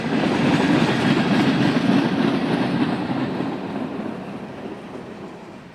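A CN transfer freight train rolls past on the Barr subdivision toward Barr Yard, a steady loud rumble with rhythmic clattering of railcar wheels close by, slowly fading.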